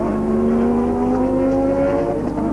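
Ayrton Senna's Formula 1 car entering the pits at the 1984 Austrian Grand Prix, a loud, continuous engine drone with a rising pitch over a few seconds, close and unbroken.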